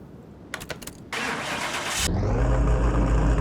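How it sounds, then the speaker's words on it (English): A Renault with its engine mounted in the back, in Car Mechanic Simulator 21, cranks over after a few clicks and catches. It settles into a loud, steady, rumbling idle that holds to the end. "Go ahead and start it up and"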